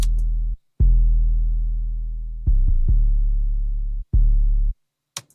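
Deep 808 bass hits with long, slowly fading sub-bass tails, four notes in an uneven pattern, played alone through one mixer channel with short gaps between them.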